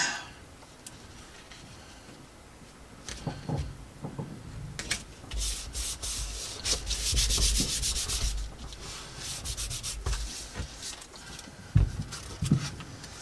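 Glue stick rubbed across paper while making a junk journal, a close dry scraping and rubbing in irregular strokes, quiet at first and growing busier midway, with a few sharp taps near the end.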